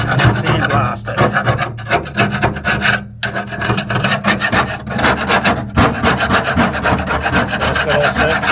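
Someone scrapes rusted rock coat off the floor of a Honda S600 with a hand tool, producing loud, rapid, continuous rasping strokes close up, with one brief pause partway through.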